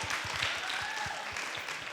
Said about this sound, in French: On applaudit Amir?